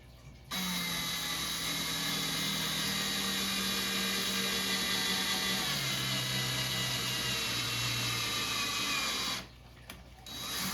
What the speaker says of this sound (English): going to drill it on a piece of this wood here